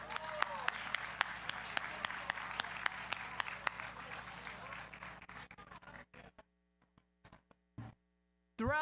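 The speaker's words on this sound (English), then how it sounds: "So let's give it a round of applause" Audience applause at a university Hall of Fame gala, dense clapping for about five seconds that thins into a few scattered claps before fading out, with a low steady hum underneath.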